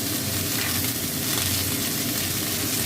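Potato and onion fry in hot oil for a ridge gourd and potato dish, giving a loud, steady sizzle that runs without a break and has no voices over it.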